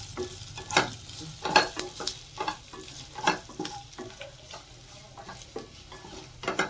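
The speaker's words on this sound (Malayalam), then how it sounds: "ചെറുതായി അരിഞ്ഞ വെളുത്തുള്ളി, ചെറുതായി അരിഞ്ഞ പച്ചമുളക്, ഇതൊന്ന് എണ്ണ കിടന്ന് ആദ്യം വാടട്ടെ." Chopped garlic and green chilli fry in oil for a cutlet, a soft crackling sizzle under repeated scraping and tapping of a spoon against the pan, in uneven bursts; no one speaks.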